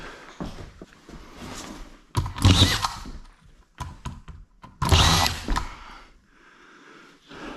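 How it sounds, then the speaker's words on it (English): Power drill driving screws during construction of a first house, heard in two strong whirring bursts with quieter mechanical clicks and handling noise between them, close by and with no talking. "I'm gonna finish screwing this off."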